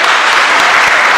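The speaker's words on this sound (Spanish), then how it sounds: "Aplauso para la hermana." Audience applause for a woman at a Catholic religious talk led by a priest, a dense, steady burst of clapping filling the whole moment, loud and close with no speech over it.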